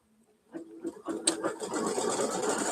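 An embroidery machine starts up from near silence and settles into rapid, continuous stitching, a close, busy mechanical clatter that grows louder and holds steady.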